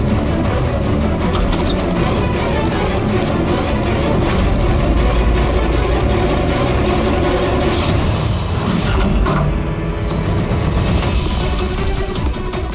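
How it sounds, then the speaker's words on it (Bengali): Gunshot in a Bengali CID police drama scene set in a village field, a sharp boom and crash rising out of a dense, loud music-and-effects mix, with a couple of bright bursts near the middle. "গুলিটা কে চালালো?"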